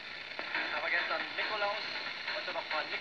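A medium-wave radio picking up a homemade LM7001 oscillator coil transmitter, giving a hissy, crackling broadcast tone marred by buzzing interference from a nearby tablet, steady and fairly faint.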